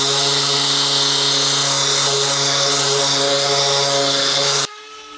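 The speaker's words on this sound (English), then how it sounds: "Oh, aren't you just so jealous of the fact that I'm sanding a whole tractor?" A power sander works over the body of an old tractor being restored, giving a steady loud whine with strong humming tones that runs evenly and then cuts off abruptly near the end.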